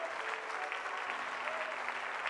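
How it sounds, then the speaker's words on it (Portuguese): A church congregation applauds together, steady dense clapping filling the whole stretch without a break, loud and close, with a faint tonal voice or music line drifting underneath. "fique de pé e comece a aplaudir ao Senhor."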